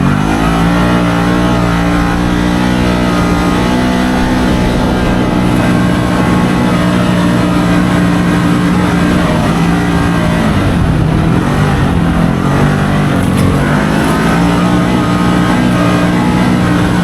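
A Can-Am Maverick Sport XMR side-by-side engine revs hard and holds near the top of its range, a loud, continuous mechanical roar with steady harmonic whine and no speech over it.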